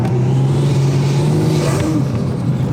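A Mazda RX8 swapped to a 1JZ-GTE VVTi with a big turbo accelerates hard, a close, loud engine drone rising in pitch, with turbo whine building over roughly three seconds.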